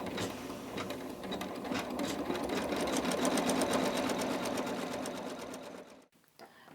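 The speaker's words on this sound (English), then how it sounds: "all you have to do is hit start, and your snowflake's going to start stitching out" An embroidery machine stitches out a snowflake design on fabric with a fast, steady mechanical chatter of needle strokes, close and even, before stopping abruptly near the end.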